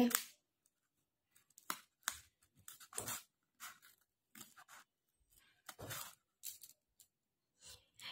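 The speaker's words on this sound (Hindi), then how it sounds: "अब इसको हम करेंगे कट तो इसको मैं काट लेती हूँ सीजर से" Scissors cutting a round paper circle for a paper pen and pencil holder, close crisp snips in irregular short bursts separated by quiet gaps, with faint sounds of handling.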